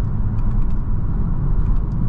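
Steady low engine rumble from a 2023 Genesis G70 car while driving, heard from inside the cabin as a continuous, fairly loud drone with no talking.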